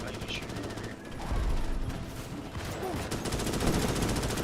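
Gunfire in a shooter video game, likely Hold Fast, Starship Troopers or Silica: a dense, steady stream of rapid automatic fire and battle noise runs throughout, with voices talking over it.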